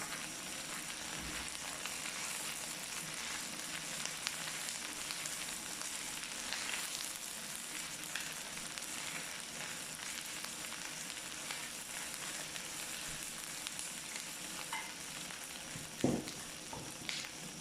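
Tomato paste fries in a pan for a Turkish kaymaklı ekmek aşı dish, giving a steady, close broadband sizzle with light stirring scrapes and a sharper clink near the end, with no talking.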